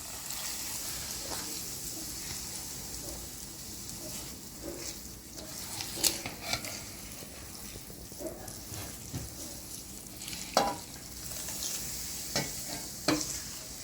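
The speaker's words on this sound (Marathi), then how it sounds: "थोडं गरम गरम टाकायचं थोडं थोडं थोडं प्रत्येक मसाला तळला गेला पाहिजे" Spices for a raw mango pickle frying in hot oil, giving a steady close sizzle with scattered stirring clinks and small pops throughout, no talking.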